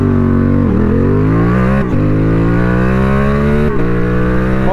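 A CF Moto 450 SR motorcycle accelerating hard from standstill with a quick shifter, loud and close, engine note climbing steadily through each gear and cut by sharp shift blips roughly every two seconds.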